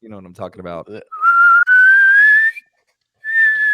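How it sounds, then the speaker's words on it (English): After a brief burst of talk, a bright, pure whistled tone slides slowly upward, pauses, then resumes as a single sustained note, like a whistle flute. "Gotta have that flute or whatever it's called."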